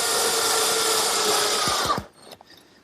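A power drill bores a counterbore into plywood to recess the head of a carriage bolt, a loud steady whine that cuts off abruptly after about two seconds, leaving faint workshop clatter.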